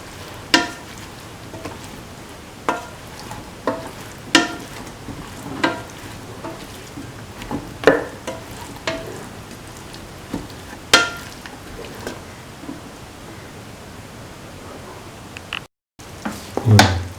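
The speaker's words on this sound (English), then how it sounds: "Mix thoroughly." Potato and bottle gourd stew with chili being stirred in a pot: a soft sizzle under repeated spoon scrapes and clinks against the pot at irregular intervals, close and moderate.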